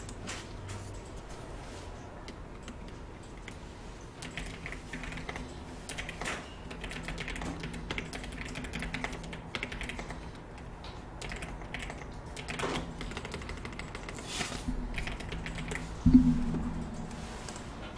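Typing on a computer keyboard for spreadsheet work, a quiet, irregular stream of soft close key clicks and taps, with one louder keystroke near the end.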